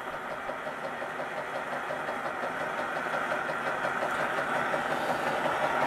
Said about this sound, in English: interesting little engine. Once you get it warmed up, it runs very well indeed